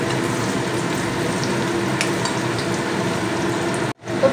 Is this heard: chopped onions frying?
yes